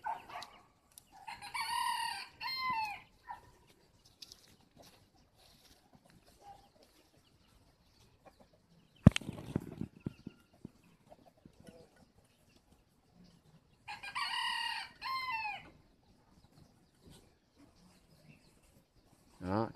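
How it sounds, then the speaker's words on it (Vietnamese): Free-range village chickens roam outdoors as a rooster crows twice, loud and clear, in two separate bursts with quiet between, plus a sharp knock midway and scattered faint clucks. "Những chú gà của chúng ta"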